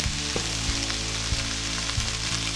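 Cabbage sizzles steadily in a pan as vinegar reduces while making sauerkraut, a continuous crackling hiss with a low hum beneath and a few soft clicks.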